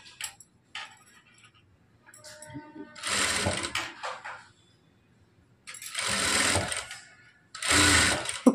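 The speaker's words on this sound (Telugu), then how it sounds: "ఇలా ½ ఇంచ్ కుట్టండి" A sewing machine stitches a plain blouse in three loud whirring runs of one to two seconds each, separated by quiet pauses with faint handling sounds.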